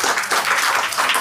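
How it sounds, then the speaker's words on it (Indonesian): A hall audience at an Idul Fitri gathering gives a short burst of steady, close clapping. "Kita tepuk tangan dulu buat semuanya"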